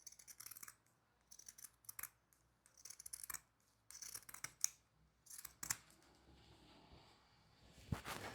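Scissors snip repeatedly along fabric sheep ears for a sewn toy, a run of quiet, crisp close-up cuts arriving in small irregular clusters with brief gaps between them.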